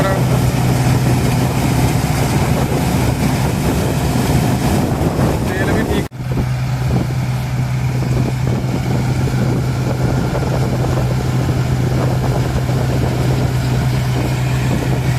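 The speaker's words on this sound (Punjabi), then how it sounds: "ਆਰਾਮ ਨਾਲ ਟਰੈਕਟਰ ਚੱਲ ਰਿਹਾ ਹੈ" A Ford 3600 diesel tractor engine idles steadily and close by at about 1500 rpm, a smooth low drone with a brief dropout midway before it carries on.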